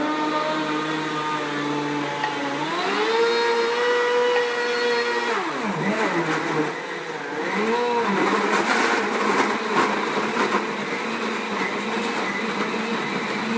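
A blender whirs through lemon juice in a loud, steady motor drone that shifts pitch as the blade speeds up and slows, then runs on with a rough, churning texture.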